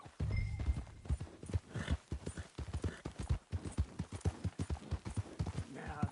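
Rhythmic clip-clop of horse hooves moving quickly, at a steady galloping pace, fairly close, in Red Dead Redemption 2.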